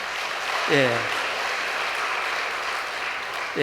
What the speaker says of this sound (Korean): 여기서 박수 한번 나와야 되지 않습니까?